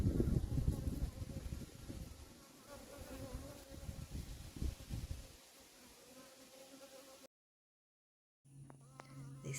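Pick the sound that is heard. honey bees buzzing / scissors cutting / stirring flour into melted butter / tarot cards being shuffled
honey bees buzzing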